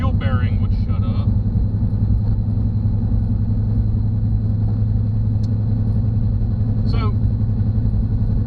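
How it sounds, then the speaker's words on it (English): Steady low road drone and rumble inside a 2006 GMC Envoy on the move with a noisy wheel bearing, continuous throughout, with a brief spoken word near the start. "I wish that wheel bearing would shut up."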